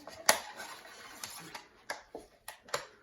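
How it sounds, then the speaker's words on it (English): Quick stirring of acrylic paint in a container with a small stir stick, a few sharp clicks and taps of the stick against the sides amid soft scraping, close and brief. "take one of my little stir sticks and just give it a quick stir"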